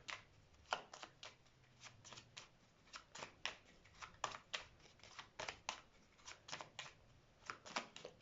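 Tarot cards being shuffled and handled during a reading, a close run of quick riffling snaps and slides that come in uneven bursts, with no voices.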